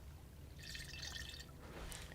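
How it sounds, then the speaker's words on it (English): A vial is filled with water in RuneScape, a soft, faint trickling pour with a light dripping burst in the middle and a brief splash near the end. "You fill the vial from the source of untainted living water."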